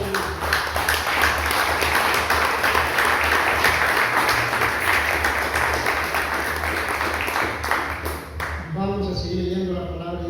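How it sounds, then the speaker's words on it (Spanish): Congregation applauding during a Spanish-language church service, steady clapping from many people lasting several seconds with voices underneath, giving way to a speaking voice near the end. "Denle un aplauso al Señor"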